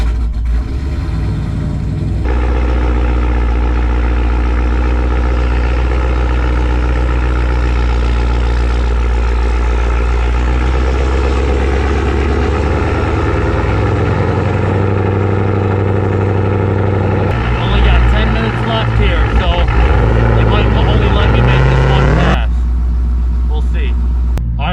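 Ford Explorer ST on a race tune runs at full throttle, a loud, sustained engine roar with a brief drop and a rise near the end before falling away, as people talk.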